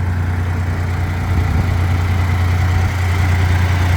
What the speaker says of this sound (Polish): jeżeli chodzi o silnik w tym wózku, który słychać jest to silnik Deutz